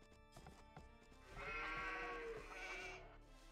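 A sheep bleats loudly for about a second and a half in the video game Age of Empires II HD, over faint background noise and soft clicks.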